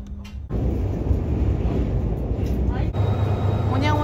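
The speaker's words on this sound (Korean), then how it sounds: "자, 기차를 타고요. 7시 24분 무궁화 열차입니다." Steady rumble and rattle of a Mugunghwa passenger train leaving Yongsan Station, heard from inside the carriage, continuous and fairly loud, with a brief muffled start.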